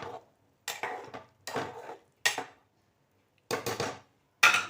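Red fish curry being stirred in a cooking pot, heard as six short bursts of a utensil scraping and knocking against the pot, separated by brief silences, close and clear.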